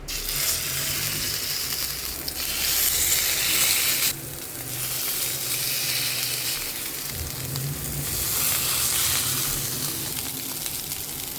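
Salmon fillet fries skin-side down in hot olive oil, a steady close sizzle and crackle running throughout with brief surges and small dips, no talking.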